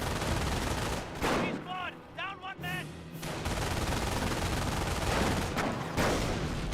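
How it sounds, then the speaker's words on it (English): Rapid bursts of MG42 machine gun fire in Company of Heroes 1 battle, dense crackling volleys with short pauses, mixed with other gunfire and distant battlefield noise, plus brief voice-like chatter in between. "MG42 pushing forward."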